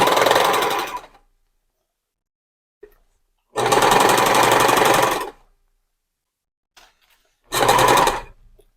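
A sewing machine back stitches the top of a strapless dress in three bursts of fast, loud stitching, separated by short silent pauses with small clicks.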